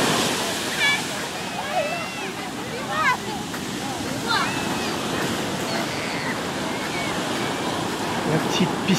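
Surf washes in steadily at Boucan Canot beach on Réunion, a broad continuous roar of waves heard from a distance, with faint voices and bird-like chirps scattered over the wash.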